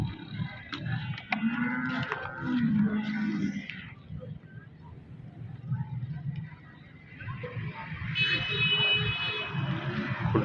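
Nili buffaloes low with drawn-out moos at a busy livestock market. Several bellows carry through crowd noise, and a buzzing tone sounds near the end.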